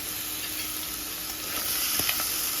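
Food stirred in a sizzling pan, a close, steady frying hiss with a couple of brief utensil knocks near the end.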